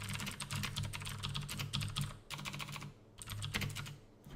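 Quick, close typing on a computer keyboard rattles along in steady runs, broken by a couple of brief pauses, over a low background hum.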